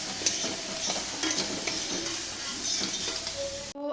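An omelette fries in a pan with a continuous close sizzle, layered with irregular scraping and stirring clatter, before cutting off abruptly at the end.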